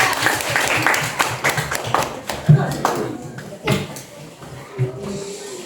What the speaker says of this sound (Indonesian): tepuk tangan untuk Hilwa